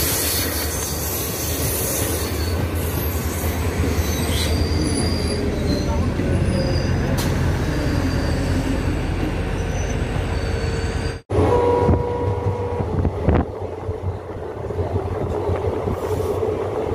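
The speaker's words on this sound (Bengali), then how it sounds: "সিকিম মহানন্দা এক্সপ্রেস। শিলিগুড়ি থেকে আসছে, নিউ আলিপুরদুয়ার যাবে, সিকিম মহানন্দা এক্সপ্রেস।" The Sikkim Mahananda Express passenger train, running from Siliguri to New Alipurduar, rumbles loudly and steadily close by with wheel squeal and rattling, then the roar briefly cuts and resumes.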